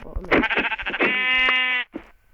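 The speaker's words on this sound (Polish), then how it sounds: "I znowu owca." A sheep gives a loud, close bleat, a wavering nasal cry that holds steady before breaking off, followed by a brief short call.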